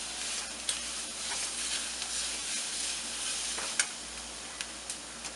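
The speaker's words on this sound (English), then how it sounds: "keep the stove on the full and saute it well" Vegetables for veg Alfredo macaroni sauté in a pan over a stove on full heat, giving a steady, close sizzling hiss with occasional faint clinks and ticks throughout.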